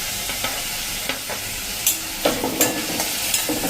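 Okra curry fries in a pan as tomato puree and long-cut green chilli go in, a steady sizzle broken by sharp spatula scrapes and stirring clinks, close and without talk.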